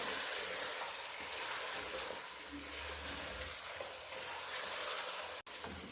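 Chicken, a full kilogram, frying in a pot as the base for a simple biryani, giving a steady, even sizzle and hiss throughout with a brief dip near the end, no voices.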